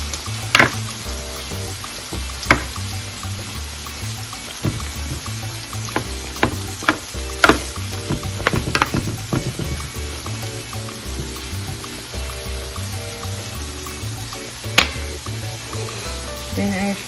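Shrimps frying in melted butter in a pan, a loud continuous sizzle with scattered crackles and pops and a few stirring clicks, no voices.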